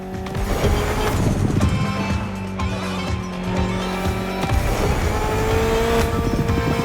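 A Mitsubishi inline four-cylinder with 280 horsepower in The Crew Motorfest, the game car engine droning loud and continuous with tire squeal and shifting pitch, briefly dipping around the middle before pulling again.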